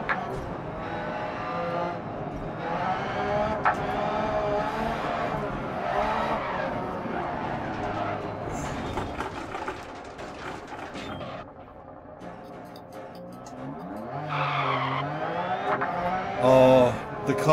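A rally car in the Dirt Rally VR racing game revs hard and skids over loose ground, with a steady engine roar and sliding tire noise that swell and fade throughout, loud and close.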